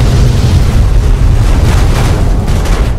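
Explosions boom in the Fallout 3 video game, a loud, continuous roar of blasts and rumbling debris with heavy low-end churn and no speech over it.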